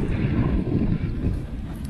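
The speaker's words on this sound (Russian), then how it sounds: "Вот такие ветра у нас." Wind blows across a lake where a fishing packraft is being tested, a steady loud low rumble and buffeting on the microphone that lasts the whole stretch with no voices.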